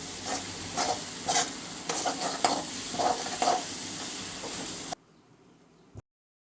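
Onions fry with salt in hot oil for egg biryani, giving a steady close sizzle with periodic stirring scrapes, then dropping abruptly to near silence near the end.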